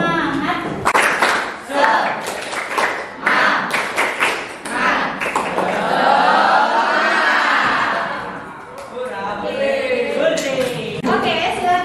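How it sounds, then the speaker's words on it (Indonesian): A school class performs a rhythmic spirit clap, quick patterned bursts of many hands with voices and cheering mixed in, building to a sustained crowd sound before clapping resumes. "Tepuk semangat."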